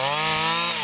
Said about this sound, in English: with a great big heavy-duty trimmer